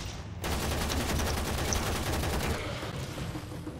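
Sustained rapid gunfire in a video game, a loud continuous stream of close shots lasting several seconds before easing off into background game noise.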